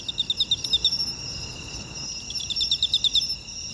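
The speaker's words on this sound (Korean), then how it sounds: "가을철 한국의 소리, 어쩌면 왕귀뚜라미의 노래가 아닌가 생각해요" Korean king cricket (Teleogryllus emma) singing in autumn, a steady run of sharp, rapid chirps in pulsed bursts, fairly close and clear against a quiet background.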